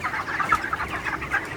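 Chickens cluck steadily in a poultry farm shed housing 28-day-old birds, many overlapping calls forming a dense, continuous close-range chatter with no voices.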